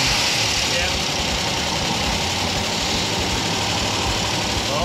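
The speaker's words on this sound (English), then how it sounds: "I've turned off the injectors so that now we can give it a crank" BMW E30 engine after a cam upgrade, cranking and running with a steady rough mechanical drone heard close and loud throughout, people talking over it.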